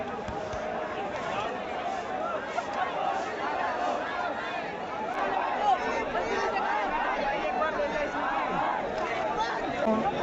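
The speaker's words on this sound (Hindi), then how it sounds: "पैर रखने की भी जगह नहीं है, इतनी भीड़ हो रही है इस टाइम पे यहाँ" A dense night-time crowd at a Jantar Mantar protest in Delhi fills the air with a steady, unbroken wash of overlapping chatter and murmuring voices, close and continuous throughout.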